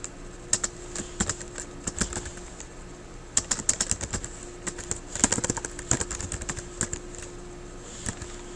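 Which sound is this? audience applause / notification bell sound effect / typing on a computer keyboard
typing on a computer keyboard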